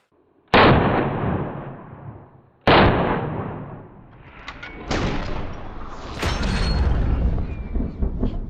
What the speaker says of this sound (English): Rifle's hot, off safe. All right, firing in 3, 2, 1.